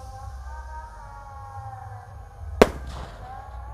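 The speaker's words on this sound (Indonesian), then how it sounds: "Kita lihat ini roket Roman candle" A Roman candle firework is lit outdoors on Takbiran night. One sharp, loud pop stands out against a quiet background with faint whistling tones, followed by a short crackling tail.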